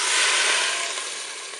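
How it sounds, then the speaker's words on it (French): Water pours into a Cookeo multicooker pot as a short, bright, splashing rush that starts strong and tapers slightly over about a second and a half, close and alone. "Je vais maintenant verser l'eau dans la cuve."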